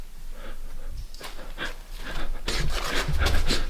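A dog pants nervously in a cave in an animated story, quick rhythmic breaths that grow louder and faster toward the end, with no talk over them.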